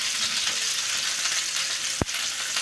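Whole green chillies sizzle in hot oil in a pan, a steady, dense hiss throughout, broken near the end by one sharp metallic clank.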